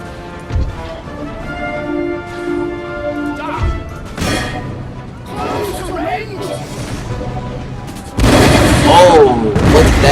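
Cannon canister fire on a battlefield in Empire: Total War at the Battle of Princeton, with several heavy booming blasts and crashes spread across the stretch, the last one loud and sustained, mixed with game noise and someone talking over it.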